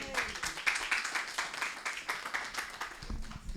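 A church congregation applauds for Jesus during a Sunday service, a moderate round of clapping with an uneven, pulsing rhythm, heard a little way off, with faint voices mixed in.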